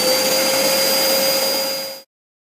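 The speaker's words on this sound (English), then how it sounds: "Robot vacuum, clean floor." A robot vacuum cleaner runs close by with a steady, loud whir and a high whine, holding even for about two seconds before cutting off abruptly into silence.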